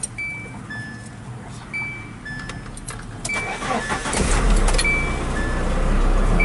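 A 1990 Nissan D21 truck's engine cranks and catches after a fuel filter change, a whirring crank and warning chimes giving way to a steady, louder idle that settles into a continuous rumble.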